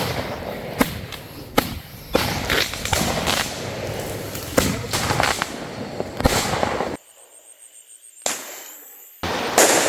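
Firecrackers set off to drive wild elephants away from homes, cracking in a rapid series of loud bangs over a noisy outdoor background, broken by a brief near-silent gap before the noise resumes.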